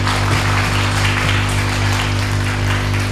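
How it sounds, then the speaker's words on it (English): Lecture-hall audience giving a loud, steady round of applause at the close of a talk on early childhood education, continuous dense clapping over a constant low hum, no speech. "please give big round applause for the final one"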